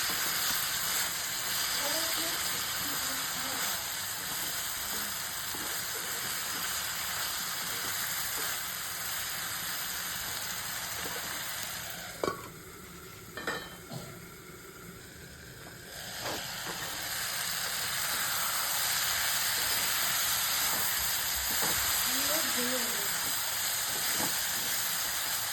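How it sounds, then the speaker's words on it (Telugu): Ridge gourd pieces cooking in a pan for chutney give a steady sizzling hiss throughout, with a few soft stirring clinks midway and faint background noise. "మధ్య మధ్యలో వాటిని కలుపుకుంటూ మాడిపోకుండా ఉడికించుకుందాం."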